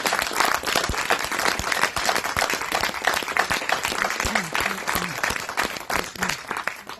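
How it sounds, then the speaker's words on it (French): Audience applause for a singer at a concert, loud close clapping from a crowd with sharp individual claps cutting through the dense patter, sustained for several seconds, with a faint voice briefly audible beneath. "on peut l'applaudir pour ça"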